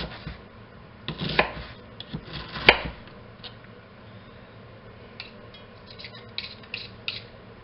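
Knife chopping onion on a board for chicken paprikash, soft irregular close taps in short bursts with pauses between, fairly faint.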